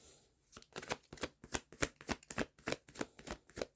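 A deck of tarot cards is handled and drawn, producing a quick run of crisp, close papery snaps and flicks in an uneven rhythm, quiet overall and with no talking.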